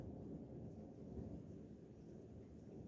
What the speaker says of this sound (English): It's shaking the windows and the doors, the thunder is.